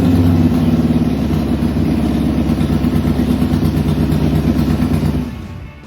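Harley-Davidson Sportster V-twin running through a Vance & Hines exhaust, a loud, close, steady lumpy idle with throbbing low pulses that fades slightly at the end.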